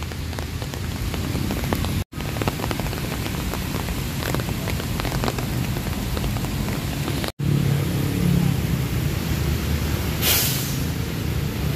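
Steady rain falls on a city sidewalk in Manila, a dense, continuous patter of drops with low traffic rumble underneath and a brief hissing spray near the end.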